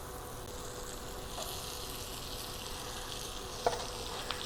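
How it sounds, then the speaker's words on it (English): Onions sizzling in melted butter in a hot pan, a steady, close crackling hiss that holds throughout with a brief sharp pop near the end. "We've got a nice sizzle going on. We're going to go ahead and add our onion."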